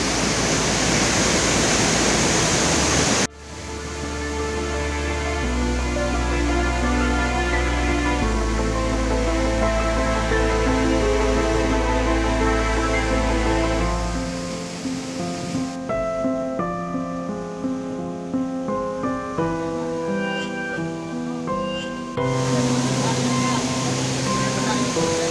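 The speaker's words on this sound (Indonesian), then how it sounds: "akhirnya kita sampai di salah satu curug yang ada di Ciapanas Pak" Curug 4, a waterfall at Ciapanas in Cidahu, roars as a broad, loud rush of falling water, first alone and then continuing beneath music.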